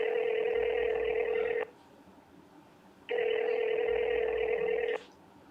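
Two long, steady tones of a telephone ringback, each about one and a half seconds, separated by a pause while a call waits unanswered, heard alone and clear.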